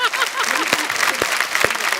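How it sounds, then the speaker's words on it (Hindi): A studio audience at a TV comedy show claps steadily, dense applause with scattered louder claps, brief and fairly close. "एक बार जोरदार तालियां अभिषेक भाई और अजय सर के लिए।"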